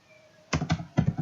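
Typing on a computer keyboard: a quick burst of about five close key clicks after a moment of near silence, loud and crisp against a quiet room.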